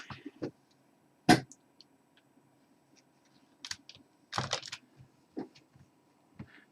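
Bursts of computer keyboard typing, several short clusters of keystrokes separated by quiet gaps, fairly close and moderate in level with no talk.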